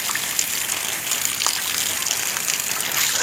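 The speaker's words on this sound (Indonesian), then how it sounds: "Setelah disiram kocor begini" Water gushes steadily from a container onto a potted aglaonema plant, a continuous close splashing pour with no pauses and no talk.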